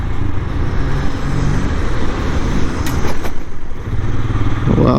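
A Royal Enfield Scram 411 motorcycle riding on the road, its engine droning loudly and steadily up close under heavy wind rush, with no talking.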